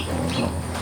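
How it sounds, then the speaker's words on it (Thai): A dove coos outdoors, a short low rounded call held briefly and alone, with no talk over it. "อันนี้เสียงนกนี่ยังไงครับพ่อเสียงนกเขาตลก"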